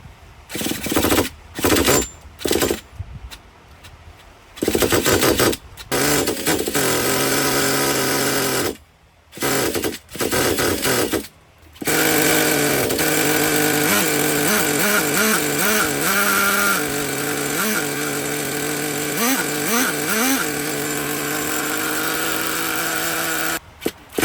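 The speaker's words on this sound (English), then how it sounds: "So it should start to fire right up, and it is." Traxxas Nitro Rustler RC car with a small nitro engine, sputtering and catching after several short cranking bursts, then running continuously with a loud, buzzing rev that rises and falls.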